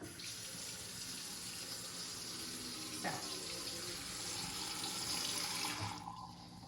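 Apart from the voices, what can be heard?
hot water running from a faucet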